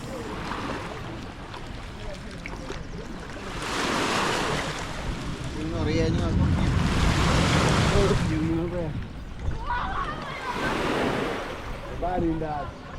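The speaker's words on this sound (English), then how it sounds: "When it docks, it comes with a lot of waves." Water surges and slaps as a water bus docks at Rusinga Island, Kenya, with wind buffeting the microphone and people talking over the loud, continuous wash.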